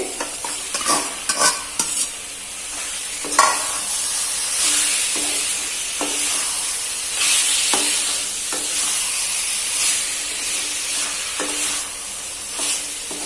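Prawns frying with onions and tomatoes in a pan for a prawn gravy, a steady loud sizzle and hiss with repeated scraping stirs of a spoon against the pan, no voices.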